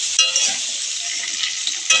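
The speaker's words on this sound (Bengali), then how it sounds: "আলুগুলো এবার তেলের মধ্যে দিয়ে দেব। আলুটা আমি অল্প করে ভেজে নেব।" Potatoes fry in hot oil with a bright, loud, continuous sizzle, the hiss surging at the start and end as the pieces are stirred.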